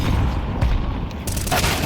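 Grenade blast and gunfire in the game CS:GO 2, a loud continuous burst of booming, rumbling explosion noise with sharp cracks over about two seconds.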